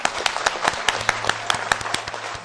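A live studio audience claps for a song performance at a Pakistan Television 58th anniversary show: dense, steady applause with sharp individual claps, sustained evenly throughout and fairly close.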